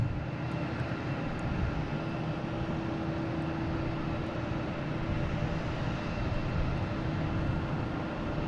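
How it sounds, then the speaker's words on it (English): A JetBlue Airbus A220 airliner arriving at Boston Logan airport gives a steady low jet engine roar, constant and moderately distant, with no voices. "Now we got a JetBlue coming in here from Daytona Beach. An A220, flight 1500."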